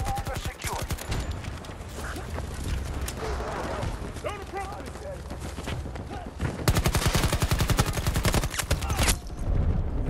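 Gunfire from a 50-round gun, rattling in fast continuous bursts that turn louder and denser toward the end, with talk underneath.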